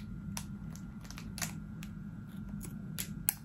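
Quiet, crisp snips of scissors trimming small pieces of plush fabric come in irregular bursts over a low hum, close by, a dozen or so small cuts.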